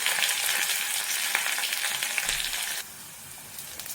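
Chopped shallots and curry leaves frying in hot oil, giving a steady, fairly loud sizzle that drops to a softer hiss partway through, with no talking.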